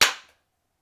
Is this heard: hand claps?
yes